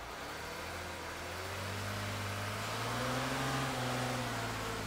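A diesel engine revved up and held at a steady 2,500 RPM, its even, loud drone rising slightly in pitch partway through and staying constant, with no talking.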